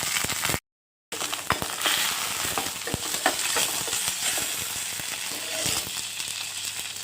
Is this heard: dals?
yes